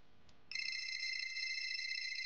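A phone starts ringing after a brief quiet moment, a steady electronic ringtone that sounds continuously at moderate volume inside a home.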